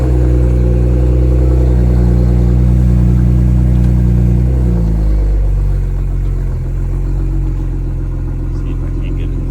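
A Ford Explorer ST Interceptor engine runs loud and close, a deep idle that swells into a rev around midway before easing back to a lower rumble, with someone speaking over it.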